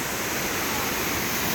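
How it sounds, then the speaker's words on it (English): A 30-meter waterfall at Las Brisas in Oaxaca, Mexico, roars as a steady, dense rush of falling water that fills the whole moment, with no voices. "30-meter waterfall"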